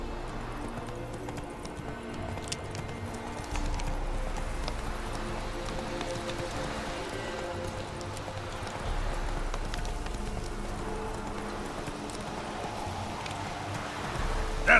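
Roach the horse gallops in The Witcher 3, a steady rhythmic clip-clop of hooves at close range, running on continuously with a low ambient rumble and light rain-like texture underneath.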